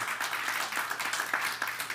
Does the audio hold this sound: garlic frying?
no